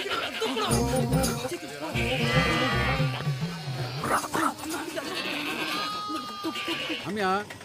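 Village goats belonging to local residents bleat in several loud, wavering cries mixed with excited voices and shouting nearby.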